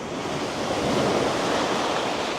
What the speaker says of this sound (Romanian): iată ne-a ajuns pe plaja Camala.